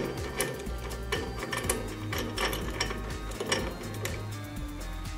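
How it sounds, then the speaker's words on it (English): Metallic ratcheting clicks and ticks come from a Jacob's chuck being tightened on a SIP floor-standing morticer, a quick uneven run of close, fairly quiet mechanical clatter. "The Jacob's chuck can then be done up tight"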